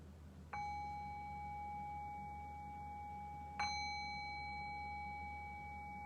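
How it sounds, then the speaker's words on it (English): A meditation bell is struck twice, each ring a clear sustained tone decaying slowly over quiet background hum, the second strike about three seconds after the first. "I'll cue that by ringing the bell 3 times."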